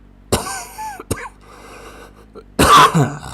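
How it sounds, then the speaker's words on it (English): Someone close to the microphone gives a few sharp coughs, a pair near the start and a louder, harsher burst later, with some low background noise between them. "That was like one of those desperate coughs."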